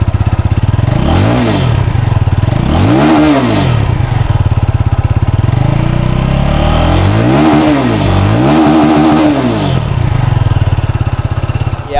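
A loud Benelli TNT 25 motorcycle engine revs repeatedly, rising and falling in several strong bursts over a constant idling rumble, close by, with no speech.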